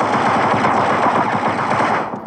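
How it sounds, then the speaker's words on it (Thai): Rapid video-game gunfire from the shooting game C-Ops, a dense continuous burst of automatic shots that stays loud and steady throughout before dropping off at the very end. "เกมนี้เราจะต้องยิงฝั่งตรงข้ามให้ตายนะครับ"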